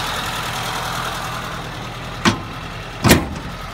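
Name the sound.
Suzuki engine running in 1951 Crosley 4x4 wagon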